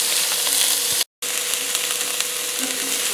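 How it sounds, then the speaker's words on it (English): Tilapia fillets sizzle in a Lodge cast iron pan. The frying hiss is steady and close, broken only by a brief moment of silence, with faint crackles and pops throughout. "we cooking some tilapia on the Lodge cast iron cookware"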